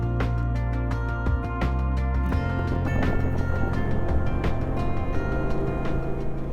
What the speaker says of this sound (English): with a modern Mercury V8, L'Aiglon now tops 50 miles per hour